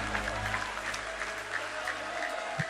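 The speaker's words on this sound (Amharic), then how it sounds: "አጨብጭቡ ለጌታ ክብር ባካችሁ።" A church congregation claps steadily in a continuous, fairly close round of applause, with low hum and a faint crowd murmur underneath.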